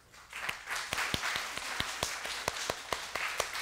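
A church congregation at a Sunday service claps in a steady, evenly spaced rhythm, sharp hand claps repeating roughly twice a second at a moderate volume.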